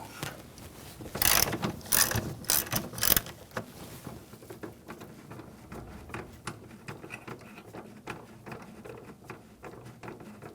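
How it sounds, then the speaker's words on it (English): A ratchet fitted with an E18 socket loosens a bolt on a 2009-2013 BMW 328i xDrive 3.0L inline-six during intake manifold work, giving rapid, close clicking bursts early on that thin into lighter, sparser ticks. "Using a E18 socket, take this bolt out."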